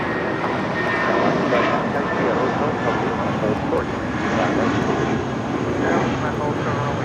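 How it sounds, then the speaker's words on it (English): A 14-year-old JetBlue Airways Airbus A320 departs LAX for Las Vegas, its engines a loud, steady, broadband roar that holds without a break from start to finish. "Departing to Las Vegas, this 14-year-old A320 with JetBlue Airways Flight 1180"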